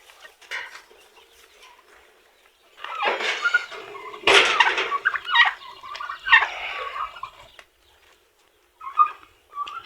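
Turkeys gobble in loud, rattling bursts close by, with quieter clucking between calls and short pauses.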